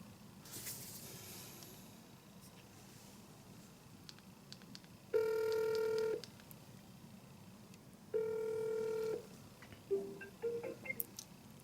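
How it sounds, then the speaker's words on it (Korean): A phone call being placed: faint keypad tones near the start, then two long electronic ringback tones a few seconds apart, fairly loud against a quiet room, with a short burst of tones as the call connects. "창균이한테 전화해볼까요?"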